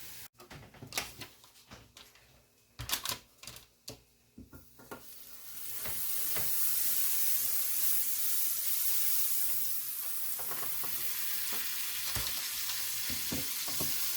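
Hash browns and ham on a hot griddle: a few clanks and scrapes of a utensil at first, then a steady loud sizzle and hiss of frying that continues close by to the end.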